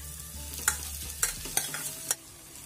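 Urad dal frying in hot oil with asafoetida over a medium flame for dal makhani: a steady, close sizzle broken by several sharp spoon scrapes and clacks at uneven intervals, with no voices.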